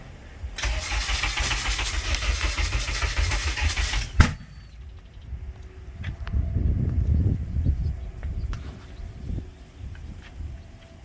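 A Honda K24A engine swapped into an Acura Integra cranks loudly and then fires up for its first start, and a sharp bang follows. After that the engine settles into a quieter, uneven idle, with shifting noise and small clanks close by.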